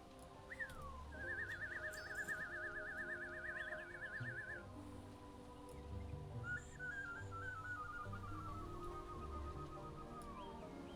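Whistled imitation of bird calls over World of Warcraft game ambience, two long warbling trilled phrases, the first rising then wavering, the second gliding down, fairly close and clear.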